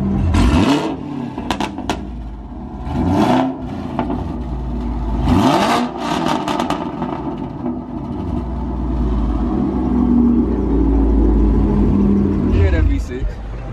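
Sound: Chevrolet Camaro SS engine revving

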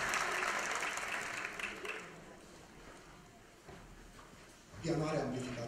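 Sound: audience applause at a folk ensemble show

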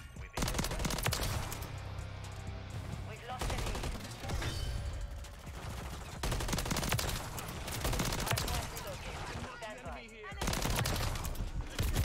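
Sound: SMG gunfire in Call of Duty Modern Warfare 3 video game

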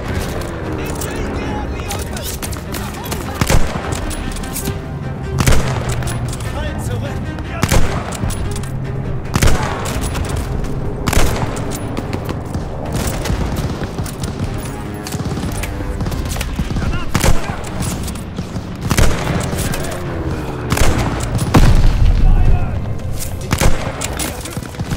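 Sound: gunfire in the video game Call of Duty: Vanguard

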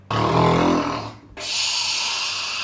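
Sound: pet snoring loudly

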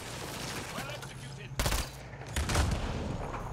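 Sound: concussion shot gunfire in the video game Mass Effect Andromeda

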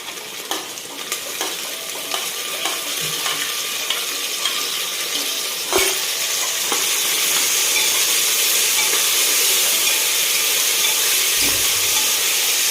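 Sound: tomatoes sautéing in a pan for khichdi

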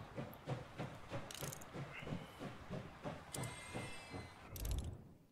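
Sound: train moving in the video game Last Train Home

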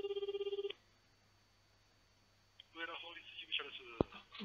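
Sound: telephone ringing on a call to a lawyer's office

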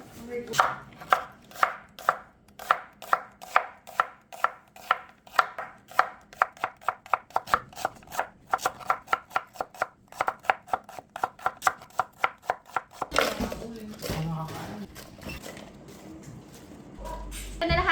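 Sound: knife slicing onions

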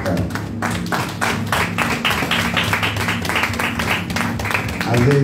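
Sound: congregation hand clapping

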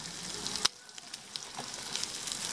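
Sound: eggs and bacon frying in pan

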